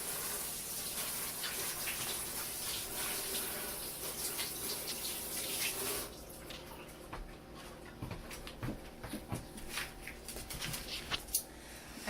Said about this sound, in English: Just rinsing my hands.